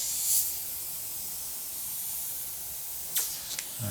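An Iwata Custom Micron airbrush sprays paint in a smooth, steady airy hiss, close up, with short sharper bursts at the start and near the end.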